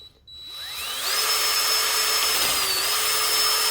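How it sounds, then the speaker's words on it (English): A power drill bores a hole to fit highway pegs on a Sportster with an El Diablo 2-1 exhaust, spinning up to a steady, loud, high whine that holds throughout. "Drill bit's a freaking killer."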